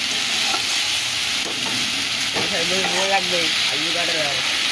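Dried red chilli dropped into jute leaves frying in oil, giving a loud continuous sizzle and hiss with stirring. A voice speaks briefly beneath the frying noise.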